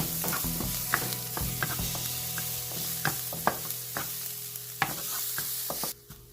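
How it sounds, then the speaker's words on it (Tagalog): Garlic sautés in oil in a pan until brown, with a steady sizzle broken by sharp clicks and scrapes of stirring, then it cuts off abruptly near the end. "igigisa natin yung ating garlic. Yan, hanggang sa mag-brown siya"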